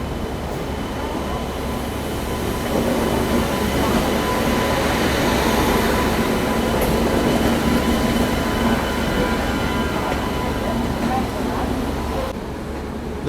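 Swarna Jayanti Express pulling into a platform at Hazrat Nizamuddin station, a steady loud rumble of rolling wagons and rail noise that holds throughout, with a faint squeal near the middle and indistinct voices around the station.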